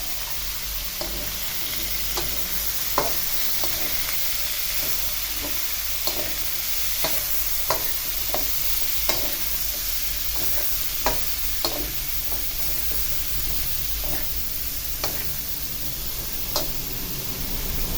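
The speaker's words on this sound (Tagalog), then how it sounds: "Uunahin ko nga dito ilagay yung ating okra at sitaw." Okra and string beans stir-fry with pork belly in a pan, giving a steady soft sizzle broken by regular sharp clicks and scrapes of a utensil stirring, close and with no talking.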